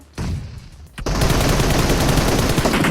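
Rapid bursts of gunfire from a PUBG Mobile match: a short volley starts, pauses, then heavy continuous automatic fire roars loud and close for the rest of the clip.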